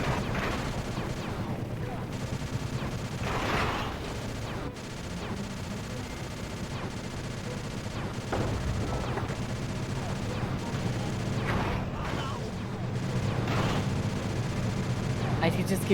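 Rapid gunfire and missile blasts in the video game Sly 2: Band of Thieves, repeated bursts of shooting and booming impacts layered over game music and character voices.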